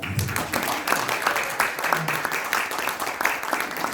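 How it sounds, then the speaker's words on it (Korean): An audience at an invited lecture claps warmly and continuously for a speaker, a full, steady ovation with a voice briefly audible beneath it. "박수 한 번 더 받기 위해서 한 번 더 인사드리겠습니다."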